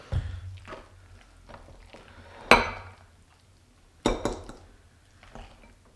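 Spinach artichoke dip is scooped into small individual ramekins in a kitchen, with soft scraping and two sharp ceramic clinks of a spoon against the dishes amid quiet handling noises.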